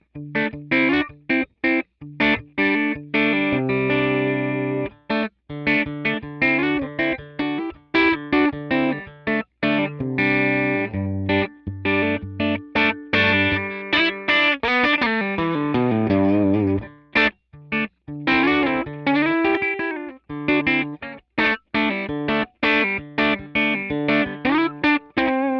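An electric guitar through a Line 6 Helix Essex A30 amp model, VOX-style and dry without ambience, plays a long passage of chords and single-note runs with crisp attacks and brief pauses, close and loud, no voices.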